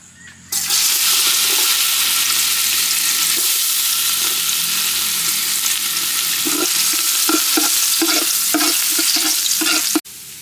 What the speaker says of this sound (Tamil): இப்போ வந்து நல்லா இஞ்சி போட்டு பொரிச்சு எடுத்துக்கலாம்